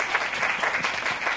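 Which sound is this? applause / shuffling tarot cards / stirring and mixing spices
applause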